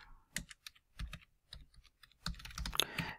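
Email address typed on a computer keyboard, close key taps arriving in short irregular bursts separated by brief silences, ending in a faster flurry of clicks.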